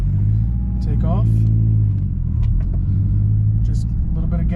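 A manual-transmission car pulls away in first gear with a low, steady engine rumble and mild revving heard from inside the cabin, while someone speaks over it.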